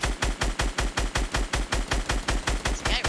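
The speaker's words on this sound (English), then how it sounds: "They were shooting at somebody else, or were they shooting at us?" Rapid automatic gunfire from the video game Fortnite Battle Royale, about a dozen loud evenly spaced shots over three seconds in one continuous burst, close and punchy with no talk.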